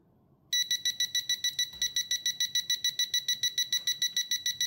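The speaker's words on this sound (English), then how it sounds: "You can see it detect and signal the alarm, both audibly and visually." A TopTes PT210S combustible gas leak detector sounds its alarm while sniffing gas from a lighter: after a brief quiet start, a loud, rapid, evenly pulsed electronic beeping repeats steadily up close.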